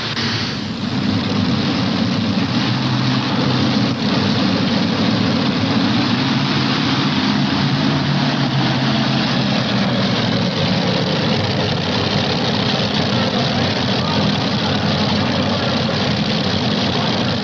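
A pulling vehicle powered by three Chrysler Hemi engines makes a loud, sustained low roar at a 1988 TNT truck and tractor pull in Charlotte, steady throughout with no talk.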